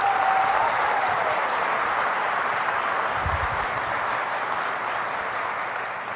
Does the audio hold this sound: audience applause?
yes